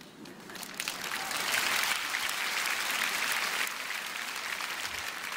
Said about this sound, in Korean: 박수 안 치셔도 됩니다.